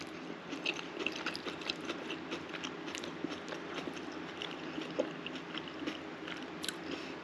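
Close, wet chewing of homemade chili with wagyu beef, fresh corn and cilantro, soft squishy bites repeating steadily for several seconds with no talk.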